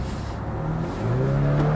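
A BMW 430i Convertible drives hard on a road test, with a steady engine drone and a rising pitch as it pulls through a gear, loud road and wind noise underneath.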